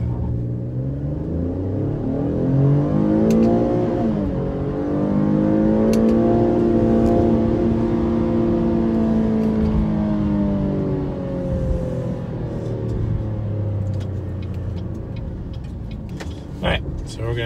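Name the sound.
2019 Buick Enclave accelerating 0 to 60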